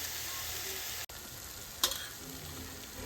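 Masala for chhole bhaji sautéed on medium gas, a steady close hiss of frying that runs throughout, with one brief scrape of a spoon partway through and no voices.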